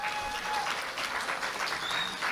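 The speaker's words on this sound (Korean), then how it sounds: "큰 박수를 한번 보내주시기 바랍니다." Party members at a Liberty Korea Party convention event in Jeju applaud the leadership candidates, a dense, steady clapping from a sizable indoor crowd that holds at an even level throughout.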